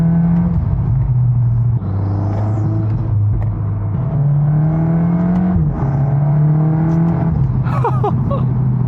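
A VW Golf R MK8 with a Stage 1+ Unitronic tune idles and revs up close, its engine note rising and falling in several steady surges with a continuous rumble underneath.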